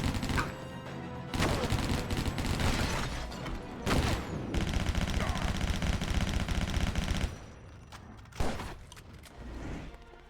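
Golden pistols firing in the action shooter Stranglehold, rapid loud volleys of shots in long sustained bursts, fading to a few scattered reports, with a voice talking over the action.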